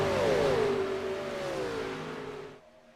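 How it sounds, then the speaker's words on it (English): Gen 4 NASCAR stock cars with X-pipe exhausts roar around Daytona in the iRacing game, a loud engine drone with pitch sweeping down as the pack passes, then fading away. "These cars sound absolutely beautiful. The Gen 4 cars with these X-pipes and all that, rocketing around here in Daytona."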